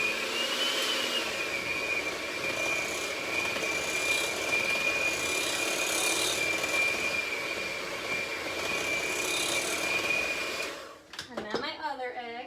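An electric hand mixer whirs continuously as it beats an egg into cookie batter, a steady droning whine that cuts off near the end, followed by brief talk.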